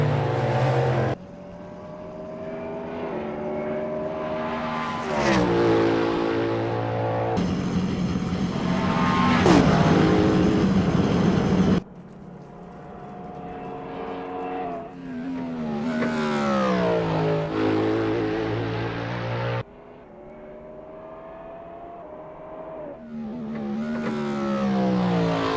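An LMDh prototype race car in Assetto Corsa runs a practice out lap at Road America, its engine howling up through the gears with sharp rises and abrupt cuts as the camera switches views, loud and continuous.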